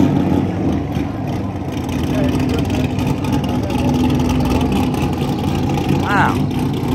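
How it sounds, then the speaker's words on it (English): A Corvette engine at a car meet, a sustained low throaty rumble with rising revs, close and loud, under excited talk and exclamations. "Do you hear this Corvette?"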